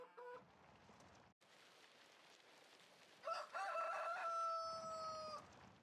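Chickens cluck in a Farming Simulator 19 farmyard, then a rooster lets out a loud, drawn-out crow partway through, standing alone without any talk.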